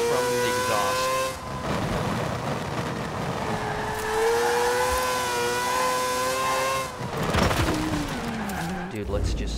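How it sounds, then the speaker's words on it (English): Mazda RX-3 built for off-road in Forza Horizon 4, engine droning and shifting pitch with sharp exhaust pops and bangs bursting through, while a voice talks over it. "Listen to those pops and bangs from the exhaust."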